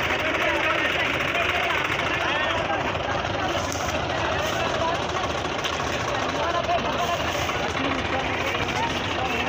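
Five tractors strain together to haul a heavily loaded sugarcane trolley, their engines a loud, continuous, rumbling roar with no letup.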